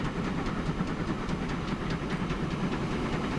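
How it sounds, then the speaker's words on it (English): A game train in Transport Fever 2 runs steadily on a circular track, a continuous low rumble with faint rhythmic clacks and a soft hiss, alone and fairly loud throughout. "It's just a circular train going around."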